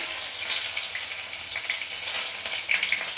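A halved bay leaf hits hot oil for tempering in a village-style jackfruit curry, giving a close, steady crackling sizzle with tiny popping bursts throughout.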